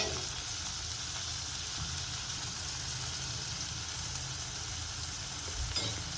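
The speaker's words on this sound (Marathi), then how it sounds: "कांदा लसूण मिक्स होऊन, म्हणजे त्या कांद्याचं कच्चेपणा जाईपर्यंत परतून घ्यायचं" Onion with ginger-garlic paste sautéing in a pan for a potato curry, giving a steady, close sizzle and frying hiss with faint stirring throughout and no talk.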